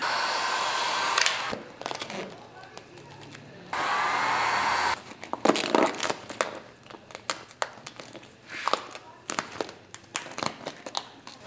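A hair-dryer-like blowing hiss from a heat gun warming vinyl wrap film on a car's front bumper, with steady stretches broken by crinkling and rustling of the film, loud and close, no speech.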